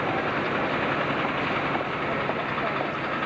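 A London Underground tube train sits in a station, its broad steady rumble and hiss close and even throughout, with no distinct clatter standing out.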